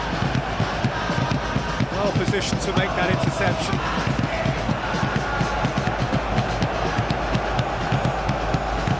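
Dense crowd noise fills a football stadium during a Persija Jakarta versus Persijap Jepara Super League match, a steady roar with rising cheers beneath continuous commentary.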